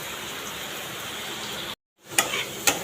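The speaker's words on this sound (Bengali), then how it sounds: "এখানে বসিয়ে দিয়েছি আলুটা আলুটা ভাজা ভাজা করব" Potatoes frying in a pan give a steady sizzling hiss that cuts out briefly, then returns with a few sharp clinks and pops, close by with no talk.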